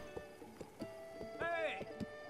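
Hooves clip-clop rhythmically as a horse runs in Zelda: Breath of the Wild, the game's quick regular beats heard close, with a whinny-like tone in the middle and someone speaking over it.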